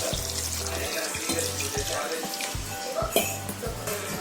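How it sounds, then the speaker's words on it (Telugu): Water poured into a pot of chicken curry cooking over a high flame, a steady running splash and sizzle with intermittent low hum, a voice talking faintly beneath. "అమ్మమ్మ వాటర్ యాడ్ చేసింది"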